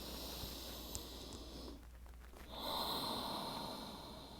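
A deep, slow inhale through the nose during a relaxing yoga stretch, heard as a close, steady breathy rush that briefly pauses and then resumes. No talk.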